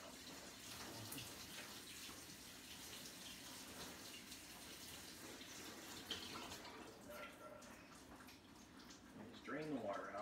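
Cold tap water running over cooked noodles in a colander, a steady close rushing splash that continues for the whole stretch with slight shifts near the end.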